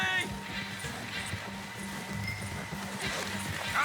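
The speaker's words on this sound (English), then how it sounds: "Come on, horse. Giddy up." A horse gallops in Red Dead Redemption 2, its hooves beating out a quick, regular clip-clop rhythm close by, with a voice talking over the hoofbeats and a whinny rising near the start and again near the end.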